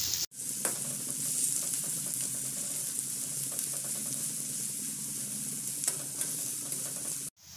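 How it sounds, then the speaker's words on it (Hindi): Onions frying in a pan for veg momos give off a steady, close sizzle with occasional stirring scrapes, continuous throughout with no talking. "2 मिनट तक इसको फ्राई करेंगे।"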